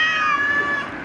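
A cat at a cat shelter gives a single drawn-out, close meow, loud and clear with no talk over it.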